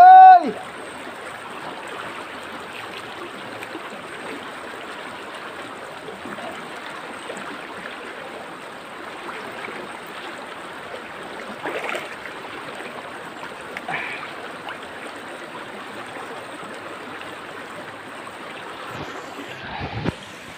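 Water flows steadily in a continuous broadband rush, fairly loud and close, with occasional splashes or bumps and a brief louder noise at the very start.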